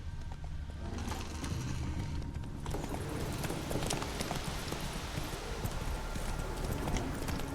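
Roach, Geralt's horse in The Witcher 3, galloping with a steady rapid clip-clop of hooves over a rushing ambient bed, close and continuous throughout.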